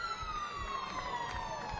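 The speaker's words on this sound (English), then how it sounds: "The full-time siren goes." At a 2016 preseason rugby match between Western Force and the Hurricanes, the full-time siren wails in a long, sliding electronic tone, moderately loud over faint stadium noise.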